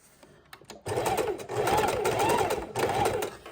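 A sewing machine stitches lace trim onto the edge of a junk journal cover in several short, steady bursts with brief pauses between runs, close and clear.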